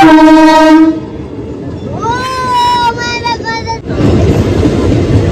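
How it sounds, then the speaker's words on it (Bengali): A train approaching a level crossing with the gate down sounds a loud horn in two long blasts, then rumbles past close by in a steady roar; voices are faintly present. "ট্রেন আসছে।"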